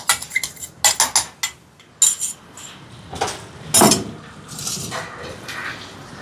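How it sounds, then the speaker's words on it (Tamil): A spoon stirring curry spices and coconut milk in a pot for a large lunch: close, clinking scrapes against the metal in quick irregular bursts, with a few louder knocks. "குழம்பு தூள் எல்லாத்தையும் சேர்த்து இப்படி கலந்து விடுவோம்"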